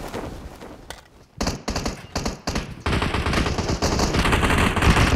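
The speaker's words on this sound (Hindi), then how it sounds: "हाँ हुआ ना गन फाइट।" Gunfight in the PUBG Mobile video game: loud bursts of automatic gunfire, first a few short volleys separated by pauses, then sustained rapid firing.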